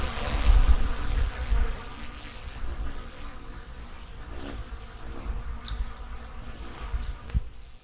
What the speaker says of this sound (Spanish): Sonido del picaflor de Arica macho.